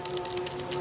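A loose ball rattles inside a gas regulator as it is shaken, making a quick series of light, faint clicks close by over a steady background hum, with no voices.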